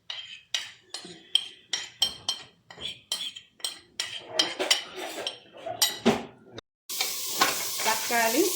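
Tomato and spice powders, including turmeric, mutton masala, coriander and chili, are stirred in a pan for mutton curry: a steady run of spoon scrapes and clinks on metal, then a louder burst of sizzling toward the end.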